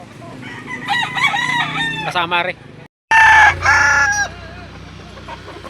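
Roosters crow loudly and close by at a chicken auction market in Lipa. Several overlapping crows ring out with clucking between them. A brief silent gap falls before another loud crow, and someone speaks briefly.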